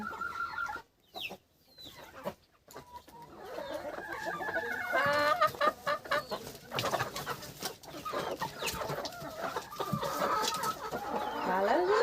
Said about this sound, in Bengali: সব কটা মোরগ উপরে উঠে গেছে